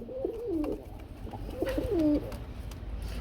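Pigeons of fancy breeds in a loft coo in two clear rolling bursts, close and distinct over a low background rumble, with no speech.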